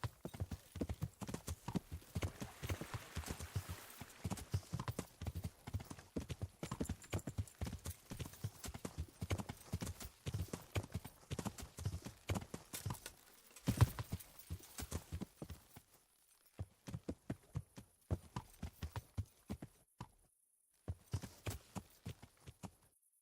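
Horse hooves clip-clop in steady, rapid rhythm from a horse in the medieval video game Kingdom Come Deliverance, pausing briefly twice before resuming in short bursts.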